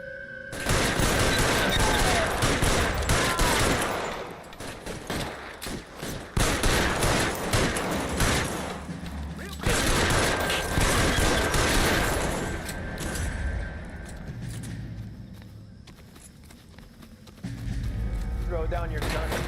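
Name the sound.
gunfire in a shootout in video game L.A. Noire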